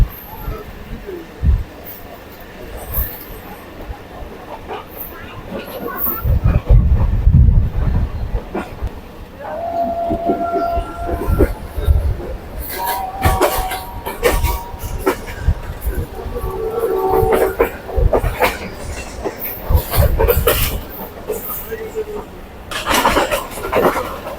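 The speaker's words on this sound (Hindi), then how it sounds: "हमारे ट्रेन का सफ़र है, बहुत इंटरेस्टिंग है।" A Pak Business Train running from Karachi to Lahore rumbles steadily throughout, with low wheel and carriage noise, occasional clanks and brief tonal squeals, while passengers talk faintly in the background.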